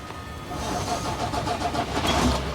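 An outback truck's engine cranks and catches, then settles into a rough, uneven running rumble with small revs, close and fairly loud, after damaged air hoses were closed off with a cable tie.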